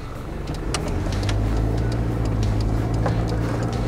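Diesel engine of a Toyota Land Cruiser 70 Series Prado while driving: a loud, steady low drone that swells after the first half second and holds, with faint rattles and road noise on top.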